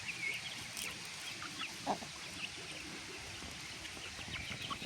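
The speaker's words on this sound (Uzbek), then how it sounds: "Tavug'imizni mana ko'rinishi, jo'jalar normal o'syapti ekan mana" Hens and their growing chicks kept at home, giving faint, scattered clucks and peeps over a low background hum, heard at a modest distance.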